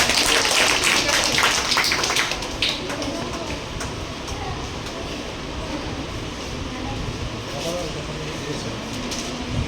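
An audience applauds at a Shobha Mahila Mangal Samity Independence Day gathering. Dense, close clapping fills the first couple of seconds, then thins into a steadier patter over the murmur of a crowded hall.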